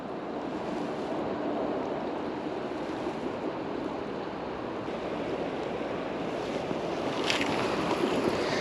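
Steady rushing and babbling of shallow water running over stones, close and continuous, with faint wind across the microphone and no speech.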